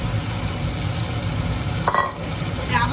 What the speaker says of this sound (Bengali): কষানো হয়ে গেছে, চিংড়ি মাছগুলো দিয়ে দেবো।